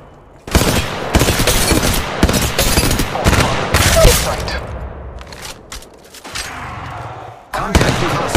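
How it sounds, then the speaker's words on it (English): Apex Legends Mobile gunfire: long bursts of rapid automatic shots, loud and close, broken by short pauses and a few single cracks near the end, with voices talking at times over the shooting. "I'm taking fire, friends."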